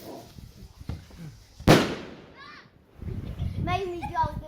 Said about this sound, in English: She's waiting for the fireworks.